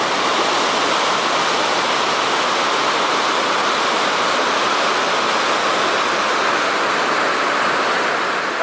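Niagara River white water rapids roar loudly and steadily at close range, a dense, unbroken rushing wash with no pauses and no voices.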